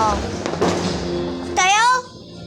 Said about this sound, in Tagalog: Grabe talagang fireworks.